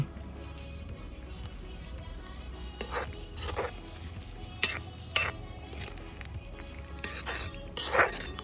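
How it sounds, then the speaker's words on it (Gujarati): Beans are stirred into a vilayati amli vegetable curry in a pan: a faint, low sizzle runs beneath a handful of sharp spoon scrapes and clinks against the metal. "એમાં દાણા નાખી દીધા અને થોડુંક મિક્સ કરી લઈએ"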